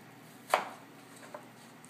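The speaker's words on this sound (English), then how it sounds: "Then you can cut on either side of the core" A knife slicing into fruit beside the core makes one crisp cut against a quiet room, followed by a fainter second tap on the board a moment later.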